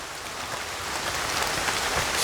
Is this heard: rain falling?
yes